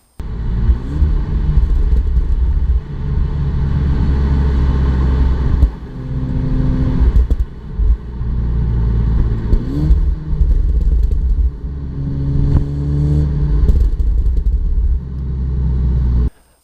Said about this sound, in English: This has got a very quiet exhaust, even though it's got 4 pipes, it doesn't really make an awful lot of noise.